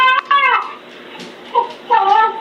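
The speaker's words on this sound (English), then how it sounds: "You hear that the baby is crying." A baby wails in several harmonic bursts with pauses between, coming thin and tinny through the small speaker of a Nooie 360 baby camera.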